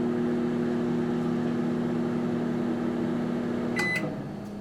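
A 2021 Magic Chef HMM1611B2 microwave oven runs with a steady low hum and whir, close and continuous, then a pair of short high beeps near the end as the sound tapers off.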